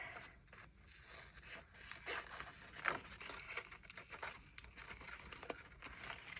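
Paper pieces trimmed for a journal spread, faint close rasping and cutting sounds with soft rustles and small crinkles, continuous and quiet with no talking.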